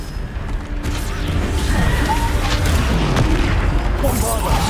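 Bombarda spell explosions in the modded Hogwarts Legacy game, a loud continuous booming roar with rumbling crashes, layered under a voice calling out spell names.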